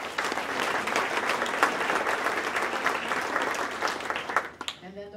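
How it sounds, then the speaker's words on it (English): Audience applause at a historical society mortgage-burning ceremony, a steady dense clapping that fills the room for about four and a half seconds before fading out abruptly. "So let's give them a round of applause"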